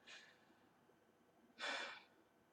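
Two breaths, a short soft one and then a louder, longer exhale about a second and a half later, close and quiet with no talking.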